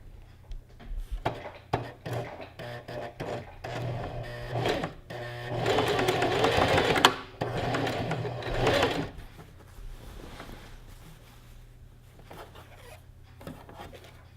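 Sewing machine stitching a skirt waistband, its motor whirring in short bursts, then one long continuous run, then quieter intermittent stitching, close by with no talking.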